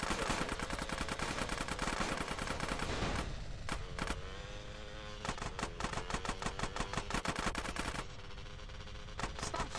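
Video game gunfire in GTA San Andreas Definitive Edition rattles in loud rapid automatic bursts, close and nearly continuous, with brief gaps between volleys.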